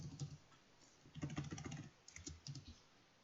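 Rapid clicking keystrokes on a computer keyboard in short bursts with brief pauses, close and fairly quiet.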